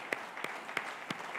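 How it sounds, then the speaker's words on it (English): At a NASSCOM design and engineering summit, an audience applauds a panelist being called to the dais, a faint, distant patter of clapping with a few sharper claps standing out at a steady pace. "Give me a round of applause."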